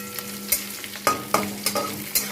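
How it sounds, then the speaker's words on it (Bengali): Sliced large onion with bay leaves frying in mustard oil in a kadai, a constant close sizzle broken by sharp scraping spatula strokes at a steady, uneven rhythm. "পেঁয়াজটা একটু ভাজা ভাজা করে নিই।"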